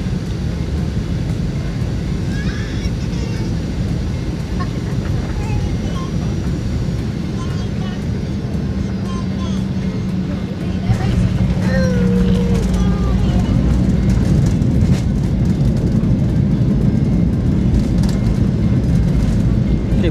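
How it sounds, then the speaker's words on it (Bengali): Cabin noise from an airplane landing at Langkawi, Malaysia: a loud, steady low engine roar that grows slightly heavier partway through, with faint voices underneath. "আমরা এখন ল্যান্ড করবো"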